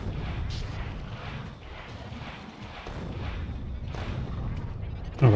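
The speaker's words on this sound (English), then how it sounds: "I think we can hit the worms with the explosion damage from the rockets there" Rockets blow up on an enemy alien hive in Factorio: a run of muffled, booming explosions and thuds that keep rumbling and overlap at a moderate level, with a sharper burst at the end and a voice partly heard underneath.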